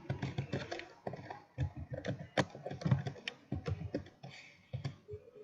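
Someone types a password on a computer keyboard, with quick, steady runs of close keystrokes broken by short pauses and no talking.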